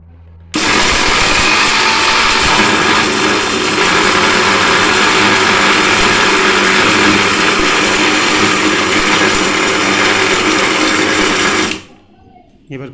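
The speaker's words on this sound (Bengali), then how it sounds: "আমি এখন এসে গেছি মিক্সার গ্রাইন্ডারে, সেগুলোকে একটু একটুভাবে দেবো।" A mixer grinder grinds dried banana peels in one loud, steady whirring run of about eleven seconds, starting abruptly and cutting off near the end, close up with no talk.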